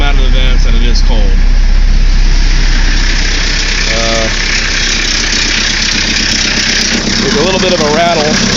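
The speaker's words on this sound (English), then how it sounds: "There's a little bit of a rattle." Idling 1981 Chevy LUV 4x4 diesel with a steady low clatter and a loose rattle running underneath, a voice talking over the engine throughout.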